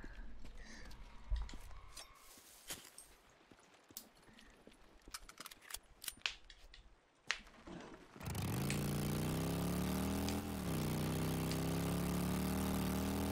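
Motorcycle engine in the video game Days Gone, a steady loud drone with rising and falling revs that cuts in abruptly after several seconds of scattered clicks and knocks, then runs continuously.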